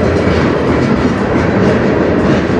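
CN M301 manifest freight train led by locomotives CN 2292, 5784 and 2544 passes close by on the Strathroy Subdivision, with a loud, continuous rumble and rhythmic rail clatter.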